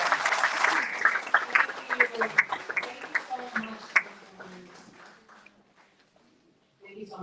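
An audience at a live event with a councilman claps, a dense burst of applause that thins into scattered claps and fades to near silence before a voice comes in at the end.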